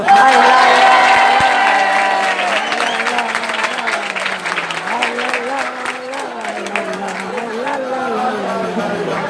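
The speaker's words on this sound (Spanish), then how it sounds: "Una grande ovación" Loud applause and cheering from a festival audience at a Galician carnival regueifa, with a sustained voice or sung tone running over the clapping and crowd noise the whole time.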